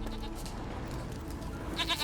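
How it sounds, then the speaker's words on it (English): A goat bleats in The Witcher 3 video game, a short wavering cry rising near the end over a low, steady game ambience. "Here, goat."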